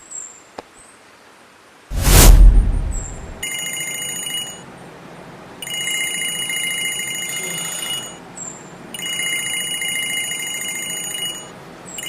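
An alarm clock set for the office rings in repeated bursts of bright electronic tones, three ringing spells separated by short pauses and preceded by a loud thump, with no talk over it.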